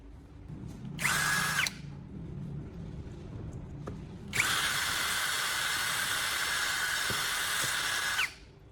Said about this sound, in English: I'll drill a hole in the center of the bulb's plastic cover